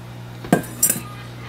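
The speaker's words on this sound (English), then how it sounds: "Give it a stir. And this is a 5 or 6 quart pot." A spoon stirs partly frozen turkey in a large 5 or 6 quart pot, making two brief metallic clinks against the pot over a low steady hum.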